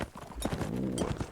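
Horse hooves clip-clopping in a competitive video game match, a busy run of overlapping hoof strikes over a dense, noisy game soundscape, with a faint rumble underneath.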